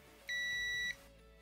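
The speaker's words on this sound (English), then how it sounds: "Beep beep." A single steady electronic beep, about half a second long, clear and fairly loud against a quiet background, heard while repairing the window control of a 2007 Hyundai Tucson.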